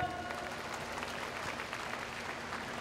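Sustained, dense applause fills a large graduation ceremony hall for a graduating class, a steady wash of clapping hands from a big crowd with no break across its length.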